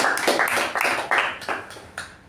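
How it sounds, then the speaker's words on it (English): A small meeting audience claps for the Sergeant at Arms, sparse and fairly quiet, with individual hand claps clearly separable in an uneven rhythm. "please give a round of applause for the debutant Sergeant at Arms"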